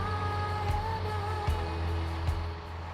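A tractor engine in Farming Simulator 19 drones with a steady low, humming tone and layered harmonics, holding a constant pitch at moderate, fairly quiet level, with a few soft clicks over it.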